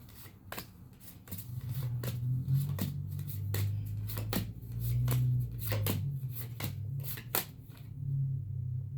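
Yes and no cards being handled and shuffled, a quick series of crisp riffling flicks and taps close by, repeating irregularly with short pauses and ending abruptly.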